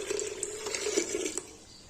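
Roughly 1.5 litres of water is poured into a pot of chana masala holding overnight-soaked chickpeas and spices, a close, steady gurgling pour that tapers off near the end, with no speech.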